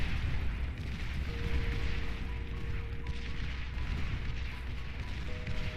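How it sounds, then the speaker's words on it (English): Dense, continuous explosions rumble from a Beyond All Reason 1v1 battle as bombers and units clash, a loud, steady barrage of booms with a faint tonal hum running underneath. "Lots of explosions."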